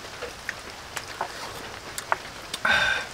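Rain falls on a hut in the forest, a soft steady patter broken by scattered louder drips and one brief splashy burst near the end.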